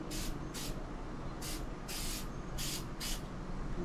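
Short bursts of aerosol spray laying a wet coat of SEM adhesion promoter, six hissing passes with brief gaps between them over a steady low background hum, close and fairly loud, with no talking.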